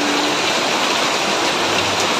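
Heavy rain pours down steadily, a dense, loud hiss of drops hitting surfaces near a fish breeding area, continuous with no voices.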